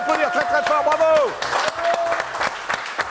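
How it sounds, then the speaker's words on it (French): A French television studio audience applauds, a dense wash of clapping with a presenter's voice speaking loudly over it. "que je vous demande d'applaudir très très fort"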